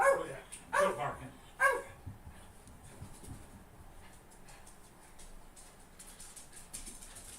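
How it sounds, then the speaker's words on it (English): A dog barks in three quick, close bursts at the start, and then fainter household background and soft movement follow. "Quit barking."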